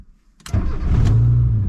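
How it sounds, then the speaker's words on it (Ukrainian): A ZAZ Tavria Nova car engine cranks briefly after a module replacement, then catches and settles into a loud, steady running rumble close by. "автомобіль завівся"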